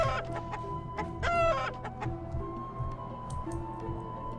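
Chicken clucking in a video game, a few short clucks over a steady ambient background with faint ticking, moderately quiet and without speech.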